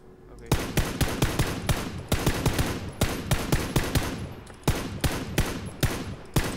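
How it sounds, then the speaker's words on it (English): Rapid bursts of gunfire in the game PUBG crack in quick succession, loud and sharp, fired in clustered volleys with only brief pauses between them. "I hear the gunshot already."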